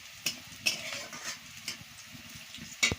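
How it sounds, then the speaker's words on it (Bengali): A spatula stirs chili powder spice mix frying in a pan for a cabbage, eggplant and potato chorchori, with a soft sizzle under repeated scraping strokes and a few sharp metallic clinks against the pan, close and quiet. "পরিমাণ মতো লঙ্কার গুঁড়ো দিয়ে দিচ্ছি। দিয়ে করে ভালো করে মশলাটাকে কষিয়ে নিচ্ছি।"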